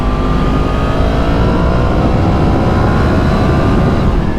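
A Yamaha FZ10/MT10 motorcycle engine drones loudly and steadily while riding, with a continuous rising engine tone and heavy wind rumble throughout, no pauses.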